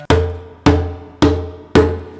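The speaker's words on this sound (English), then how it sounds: "just 4 of them will be played like this" Four evenly spaced djembe strokes played with the right hand in quarter notes, each a sharp close hit that decays quickly, alone with no voices.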